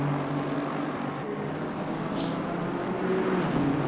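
A GT race car at Barcelona in Assetto Corsa Competizione, its engine droning steadily as it comes down the final corner, with a faint pitch rise near the end.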